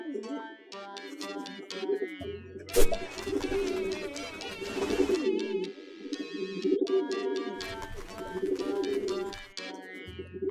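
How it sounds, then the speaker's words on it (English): A carrier pigeon in the Hiveswap video game coos amid layered game music and effects, the bird sounds repeating through the passage at moderate loudness. "You entrust it to one of your trained carrier pigeons"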